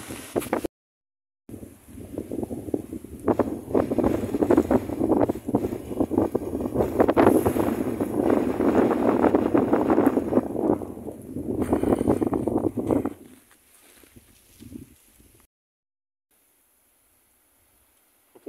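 Strong wind buffets the microphone beside a small river in late-March snowy weather, roaring in loud, gusty bursts for over ten seconds before dropping off abruptly into near silence.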